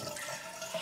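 Water running steadily from a newly installed shower tap in a household shower cabin, a brief soft hiss of flow, quiet and close, without talk.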